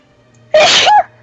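A single sharp, loud sneeze bursts out close by against a quiet background, during a tabletop role-playing game session.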